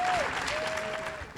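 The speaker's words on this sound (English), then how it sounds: "So please welcome them, you guys, with a round of applause." Audience applause at an evening literary event, a dense steady wash of clapping with a faint tone running through it, fading slightly toward the end of the brief moment.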